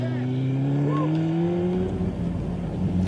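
A motorcycle ridden upright on a race track, a steady loud engine drone with a gliding pitch as it holds speed through a curve, heard nearby without speech.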